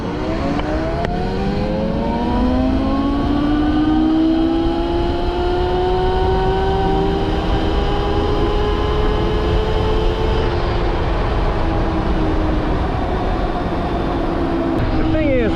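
A Horwin CR6 retro electric motorcycle pulls away hard from a stop, its rising motor whine sweeping upward in steady tones and holding loud and close throughout, with wind and road noise beneath.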